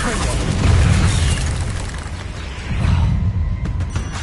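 Explosive Confringo spell blasts in the Hogwarts Legacy video game, two loud booming bursts with rumbling low end spaced about two seconds apart, amid continuous game noise and voices.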